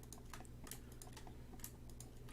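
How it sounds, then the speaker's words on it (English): Quiet, close computer keyboard keypresses during 3D modeling work, a quick irregular run of sharp clicks over faint background hum, with no talking. "we go to top view by pressing 7 on the number pad"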